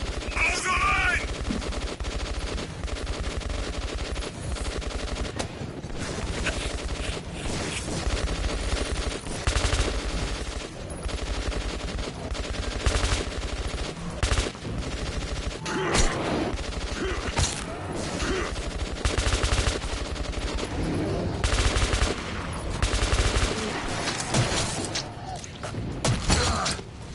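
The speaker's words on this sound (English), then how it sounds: "Fire at will!" Sustained machine gun fire in the Metro 2033 Redux video game, dense bursts of automatic gunfire rattling almost continuously, loud and close, with shouted voices breaking through now and then.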